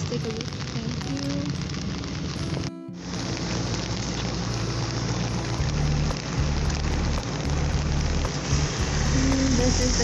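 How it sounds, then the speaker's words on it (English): Heavy rain pours during a thunderstorm in Las Vegas, a dense steady hiss close by with a brief dropout, likely heard from a vehicle on a flooded street, with faint traffic underneath. "It's rainy."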